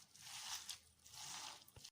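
Hands kneading a stuffed grape leaf filling of ground meat and dry onion, soft wet squishing and squelching in quiet bursts, close and faint.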